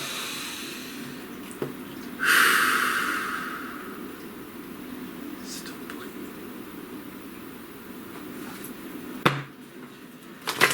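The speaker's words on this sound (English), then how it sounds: "Please take a nice deep breath." One long, slow breath drawn in close to the microphone, a soft airy hiss that swells and then fades against a quiet background.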